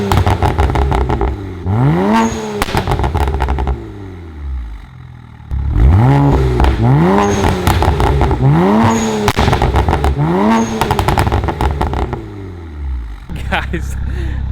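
A BMW 335i with the N54 engine, running an MHD flash tune, revs up repeatedly, each rev rising sharply and falling back into loud crackling exhaust burble and pops. The rev bursts come in close groups with brief pauses between them.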